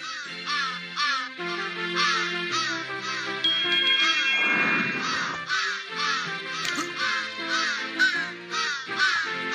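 Ravens cawing in the video game Santa Claus In Trouble: repeated harsh caws sound close and loud, layered over steady game music throughout.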